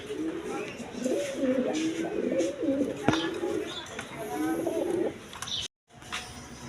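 High-flying Giribaz pigeons coo steadily at close range in low, rolling phrases that run almost continuously, with a brief silent gap near the end.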